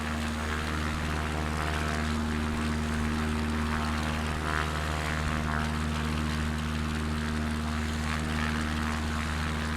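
A Cubcrafters XCub propeller plane in Microsoft Flight Simulator 2024 drones with a steady, loud engine and propeller hum, constant and unbroken throughout.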